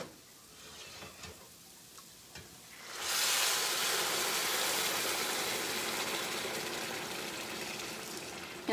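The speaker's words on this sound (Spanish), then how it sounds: "Y ahí le va el agua al arroz." Water poured into a pot of rice while making cauliflower fritters, a loud steady rushing hiss that begins abruptly partway through and continues to the end, over faint kitchen clatter.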